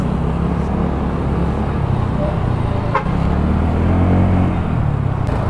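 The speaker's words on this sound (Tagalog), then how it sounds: "tapos rinig na rinig mo yung ugong ng muffler niya." A TVS Entorq 125 scooter's engine and muffler hum steadily while riding, a smooth low drone with wind and road rumble, fairly close and continuous.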